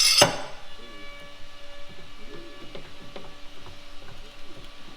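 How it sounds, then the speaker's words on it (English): Two F clamps are tightened to hold wood down at a drill press: a sharp knock opens, then quiet, close ratcheting clicks and soft creaks of the clamp screws repeat steadily. "I'm going to use 2 F clamps"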